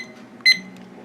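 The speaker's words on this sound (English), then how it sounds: "Let me set the timer for a couple of hours" A kitchen timer is set for a yarn-dyeing brew of goldenrod and gives one short, bright electronic beep, loud and close, against a quiet low hum.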